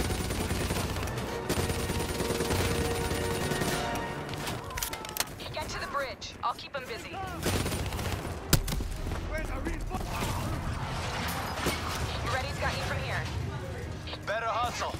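Video game gunfire from Black Ops 3 in a combat scene, with rapid automatic bursts and scattered shots that continue for the whole stretch, steady and loud, mixed with voices talking.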